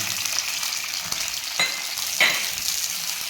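Okra fries in hot coconut oil with a steady, close sizzle, broken by two brighter spitting crackles near the end, and no voices.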